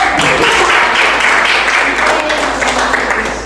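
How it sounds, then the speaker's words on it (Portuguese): A church congregation claps continuously in loud, dense applause that holds steady for several seconds before easing slightly at the end. "Você pode aplaudir Jesus de novo?"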